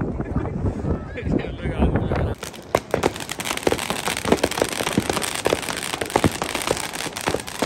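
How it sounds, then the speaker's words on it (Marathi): Scattered New Year's firework bangs and crackles pop irregularly in the distance across a river in Germany, over wind rumble on the microphone and a nearby voice talking. "सगळीकडे फक्त फटाके फटाके चालू आहेत सगळीकडे"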